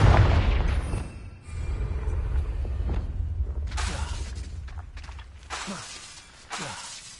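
A Confringo blast cast in a wizarding video game bursts with a sharp shattering crack, followed by further bright crashing bursts and rumbling booms that trail off amid game ambience.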